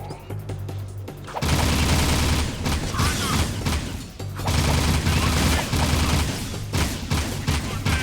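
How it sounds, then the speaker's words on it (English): Rapid bursts of gunfire from the video game Jak 2 come in loud, dense volleys that stop and start across the stretch, with game effects and brief pauses between bursts. "It's insane how many shots you get off in such a short period of time."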